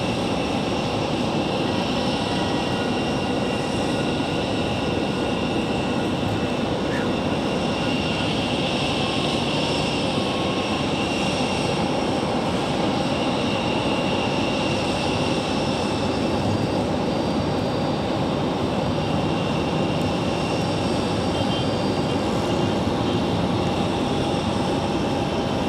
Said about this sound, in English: There's our CRJ from DCA.